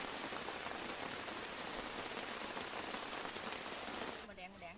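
Steady rain falls outdoors as an even, dense hiss of drops on surfaces, moderately loud and continuous, thinning slightly near the end.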